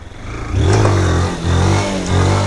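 A 2023 Honda Fan 160 motorcycle engine revs hard during a wheelie, close and loud, surging in three throttle bursts with brief dips between them, with no talking.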